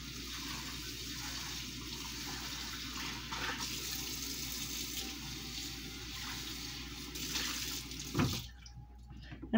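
A pan being rinsed under a kitchen tap, a steady close rush of running water that splashes briefly before it stops abruptly.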